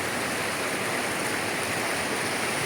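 Water rushes steadily over the overflow weir of a village tank, a loud, continuous broadband roar like a small waterfall, close by with no pauses.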